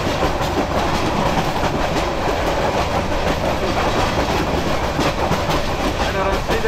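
The Kurigram Express rumbles loud and close, a continuous dense roar of rolling rail noise with faint rhythmic clatter running throughout.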